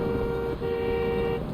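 Car horn honking in Yakuza 3 Remastered, two steady sustained tones with a brief break between them, fairly loud and alone.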